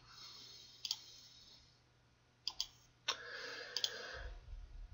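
Several crisp mouse clicks inside PSIM simulation software, a single click followed by a quick double pair and a few more scattered clicks over a faint steady background hum, with no talking.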